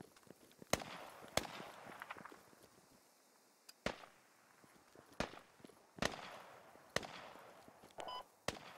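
Sharp, distant sniper gunshots in the military shooter Squad, set in Kohat Toi River Valley, cracking out as about eight separate reports spread irregularly over ambient battlefield noise.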